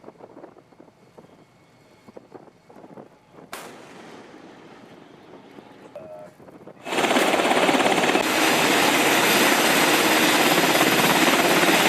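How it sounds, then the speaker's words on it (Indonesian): Military helicopters lifting off from the amphibious assault ship USS Tripoli: after quieter ambient noise, a loud, continuous rotor and turbine roar swells in and holds steadily to the end. "Sejumlah helikopter dari USS Tripoli terlihat lepas landas saat dikerahkan oleh CENTCOM."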